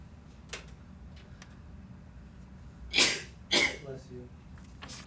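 A sharp sneeze in a precalculus classroom, in two quick bursts about half a second apart, fairly loud against a quiet room hum.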